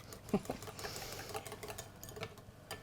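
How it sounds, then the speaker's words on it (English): A small egg whisk beats barbecue sauce with garlic in a bowl, giving soft, quick, irregular clicking and tapping against the sides, close by and quiet. "We get to use my cute little egg whisk."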